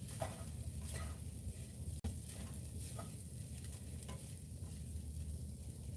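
Eggs, potatoes and sausage fry in a pan on a camp stove beside a Prius, a soft continuous sizzle with faint scrapes and a single sharp click midway.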